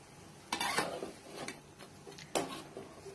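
Pieces of beef or chicken roast are stirred into fried onions in a pan. A utensil scrapes and clinks against the pan in a few short, separate bursts, quiet and close, with low kitchen noise between.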